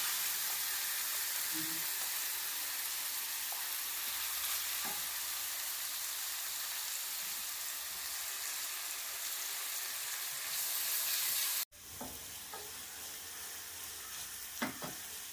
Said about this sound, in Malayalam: വെളുത്തുള്ളിയും ഇഞ്ചിയും മുളക് പൊടി മല്ലിപ്പൊടി മഞ്ഞൾ പൊടി എല്ലാം കൂടെ ചേർത്ത് അരച്ച അരപ്പ് ഇതിനകത്ത് വഴറ്റിയെടുക്കാം